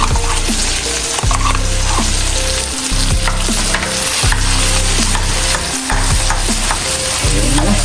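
Corned beef being mashed and stirred in a pot for Jamaican curry corned beef, with steady frying sizzle under repeated scraping and stirring strokes, loud and close, with no talking.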